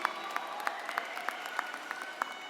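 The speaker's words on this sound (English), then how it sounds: "Let's please give these students a round of applause." Sparse, faint clapping from a high school graduation audience, with scattered individual claps spaced out rather than a full ovation, heard from a distance in a large hall.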